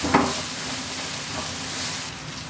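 Chili and coriander powder fry in a pan for kadai chicken while a spoon stirs them, making a steady near sizzle with a brief scrape at the start and no voices.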